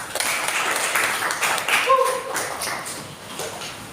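Students in a classroom clap for a classmate, a continuous moderate patter of hands with a brief tone sounding in the middle and voices mixed in.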